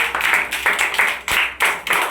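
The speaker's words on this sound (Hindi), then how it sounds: "तीन तीन तीन ताली बजाओ भाई" A group of people in a counting game clap their hands together in unison, several sharp, evenly spaced claps close by, each with a short ringing tail and no talking between them.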